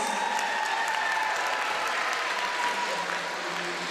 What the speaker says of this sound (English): please give Japaden and his family a round of applause